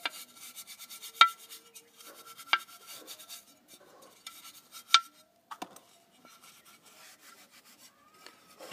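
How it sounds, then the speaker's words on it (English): A small bonsai pot is scrubbed clean of old soil, giving soft close rubbing and rasping strokes broken by a few sharp ceramic clicks, quiet and intermittent with brief pauses. "Nicely cleaning this container, a little pot."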